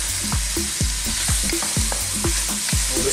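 Browned minced beef and chicken Vienna sausage sizzle in a pan for Filipino-style spaghetti, a loud steady frying hiss over a regular thumping beat, with no speech.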